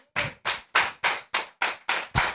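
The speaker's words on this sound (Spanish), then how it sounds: "Denle un aplauso al Señor." Eight sharp, evenly spaced claps ring out one after another during a church service, crisp and close with short silent gaps between them.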